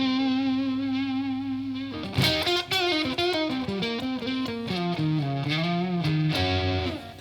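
An Enya Inspire electric guitar plays chords and melodic notes through a distortion effect with the volume knob rolled back slightly, giving a somewhat softer, less saturated crunch; a sustained tone opens before strummed phrases follow, alone without talk.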